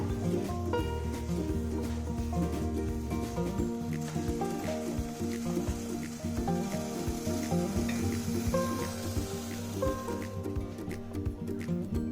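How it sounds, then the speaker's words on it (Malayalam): Oil heated in a pan for a homemade soybean curry sizzles and crackles steadily close by, with faint clinks and stirring noises over a continuous frying hiss. "കുറച്ച് എണ്ണ ഒഴിച്ചു കൊടുക്കുവാണ്."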